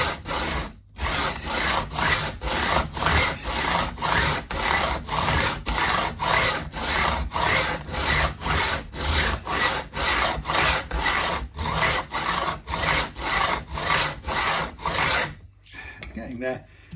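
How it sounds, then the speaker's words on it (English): A fine file rasps back and forth across stainless steel fret ends to trim them flush on a left-handed Fender Mexican-made Telecaster neck, a steady run of loud, even strokes with a brief pause near the start. "So a bit more straight backwards and forwards cutting now."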